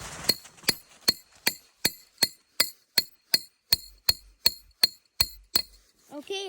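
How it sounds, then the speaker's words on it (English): A metal spout is hammered into a drilled hole in a maple tree with about fourteen sharp, ringing metallic strikes at a steady rhythm, close and loud, followed by a brief voice at the end. "I'm going to tap the tap in"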